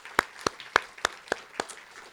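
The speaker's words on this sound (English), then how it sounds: "So get a big round of applause for them." Six sharp, evenly spaced claps ring out in a slow steady rhythm from an audience at an evening panel on California death penalty ballot initiatives, each clap distinct and fairly close, with quiet between them.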